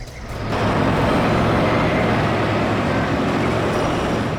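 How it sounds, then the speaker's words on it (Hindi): Truck arriving on a roadway, a heavy rumbling roar that swells in after a brief quieter moment and then holds loud and steady with broadband road noise. "ट्रक भी आ गया।"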